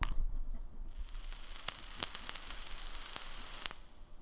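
A steady high-pitched hiss from a vape pod mod running an automatic coil cleaning cycle runs for several seconds, broken by faint sharp crackles and pops, with no talking.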